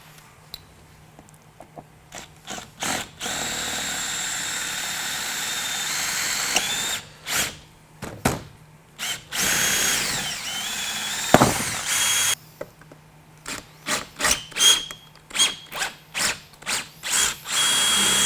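A power drill drills out the rivets on a Wilson case handle, with repeated close, loud bursts of high whining and grinding, some long and some short, broken by brief pauses.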